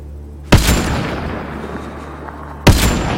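Two sharp, loud gunshots in the video game Mass Effect Andromeda, one early and one about two seconds later, each a hard crack with a decaying boom over a steady low game ambience.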